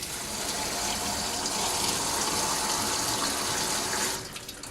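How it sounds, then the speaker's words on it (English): Tap water runs steadily into a displacement can at a sink, a continuous close hiss and gurgle that cuts off near the end, leaving a few drips. "We're going to fill it with water until no more water comes out of this little spout here."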